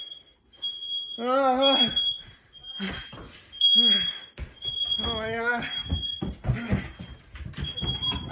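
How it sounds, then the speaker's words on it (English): A household smoke alarm beeps in a steady repeating series of piercing high tones during a kitchen fire, running under excited, overlapping voices. "Is this stupid alarm doing it again?"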